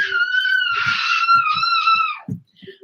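A young boy screams in excitement, a sustained high-pitched shriek lasting about two seconds, wavering in pitch and then breaking off, with soft handling knocks underneath.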